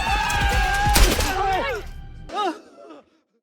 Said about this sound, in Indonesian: Satu peluru telah tertembak